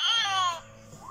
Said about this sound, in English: baby.